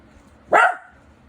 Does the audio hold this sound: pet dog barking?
yes